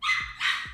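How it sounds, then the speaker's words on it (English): A puppy gives two loud, bright yaps in quick succession, close up and alone, in a cartoon-style scene. "Ooh, a loud puppy."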